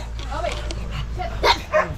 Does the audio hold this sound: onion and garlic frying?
no